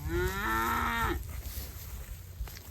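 An Angus cow lets out a single loud, drawn-out moo lasting about a second, followed by quiet outdoor ambience with faint rustling.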